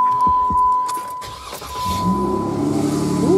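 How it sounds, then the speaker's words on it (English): A car with two newly fitted mufflers starts up, with a few clicks and a whirring crank giving way to the engine catching and settling into a low, steady idle, close by. "There's one muffler, two muffler. So let's see if it's quieter. Start this thing up."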